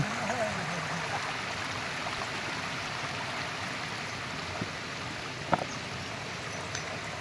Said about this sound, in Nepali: अब पानी जति यता बग्यो, यता सुक्यो।